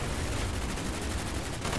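Submachine gun fire in the Call of Duty Black Ops campaign, a dense, loud, continuous rattle of rapid shots lasting under two seconds.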